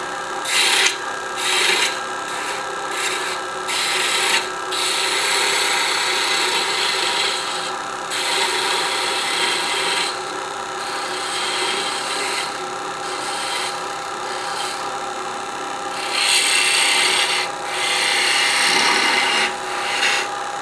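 A wooden bell ornament turning on a lathe while a gouge smooths its surface, giving a loud, steady rasping scrape that surges in repeated bursts over a constant hum, heard close with no talking.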